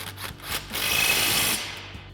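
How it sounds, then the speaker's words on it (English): An impact wrench fitted with an 18mm socket tightens a factory mounting bolt on a 2016-2024 Camaro coil-over install, giving a close, buzzing hammer rattle that swells for about a second and then fades. "We'll go ahead and tighten that back down with our 18mm socket on our impact."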